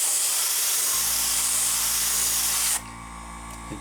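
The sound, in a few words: spraying paint through template onto model ship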